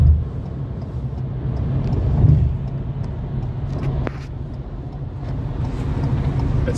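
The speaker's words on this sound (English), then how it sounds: "now we're on the freeway. Driving smooth." A Ford Maverick Hybrid XLT cruises on a freeway, producing a steady low road and engine rumble with constant tire and wind noise throughout, heard from inside the cabin with no talking.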